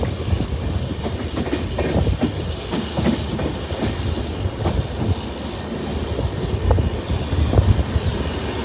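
A passenger train running from Obalapura toward Shirdi on the Mysuru route rumbles steadily, heard from inside with rattling, clicking wheel noise and occasional sharp knocks.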